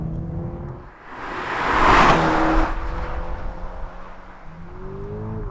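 A Toyota GR Supra 2.0-litre four-cylinder engine revs up and fades, a steady mechanical drone with a rising pitch that swells briefly before settling back to a lower hum.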